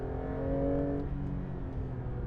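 A sports car's engine hums steadily on a circuit during a cold-tyre test drive, a strong low drone that eases slightly partway through, with no talking.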